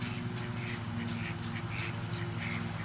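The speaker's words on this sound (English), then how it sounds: "Ducks are loving it." Ducks in water give a run of short, bright quacks in a loose, repeating rhythm over a steady low hum, moderately near but not loud.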